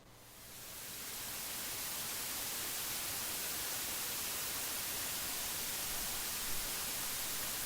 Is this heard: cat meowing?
no